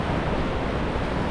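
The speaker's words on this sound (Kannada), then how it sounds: "ಬೆಳಗಿನ ಅಲೆಗಳು ಪ್ರಶಾಂತವಾಗಿದ್ದಾವೆ, ಸಂಜೆ ಅಲೆಗಳು ಸ್ವಲ್ಪ ಭೀಕರವಾಗಿರ್ತವೆ" Calm morning waves at Apsarakonda beach on the Arabian Sea, a steady broadband wash of surf with light wind, continuous and fairly close, with no voices.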